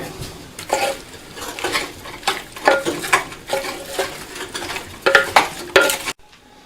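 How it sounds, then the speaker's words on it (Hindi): Meat is stirred with ghee in a pot for Chinioti kunna gosht, giving continuous rhythmic scraping and clinking over a light sizzle, close and fairly loud. "ये हमने घी भी ऐड कर दिया। अब हम इसको बहुत अच्छी तरीके से मिक्स करेंगे।"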